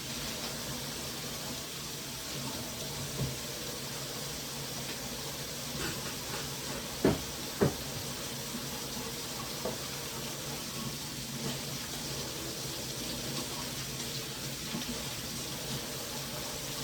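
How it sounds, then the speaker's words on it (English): Constant sizzling hiss of meat searing in a pan, with a few scattered pops and clicks, no talking. "you can hear that starting to sizzle. So already it's starting to fucking sear."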